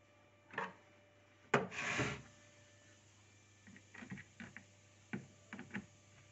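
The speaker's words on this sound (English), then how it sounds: "Now we have to tighten the cabinet screws, one or two." Screws are tightened into a harmonium's wooden cabinet, giving a few short scraping and rubbing bursts with small clicks between quiet pauses. The sounds are close and faint.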